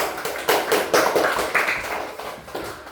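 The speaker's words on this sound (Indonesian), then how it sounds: "Ya, tepuk tangan" Students in a classroom clap their hands in a short burst of applause. The claps are sharp and uneven, with several distinct slaps rising and fading over a few seconds and no talking.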